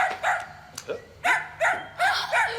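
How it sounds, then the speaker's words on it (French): A dog barks in a quick series of sharp, close, loud barks, several in a row with short gaps, alone with no talk over them. "Mon chien est arrivé!"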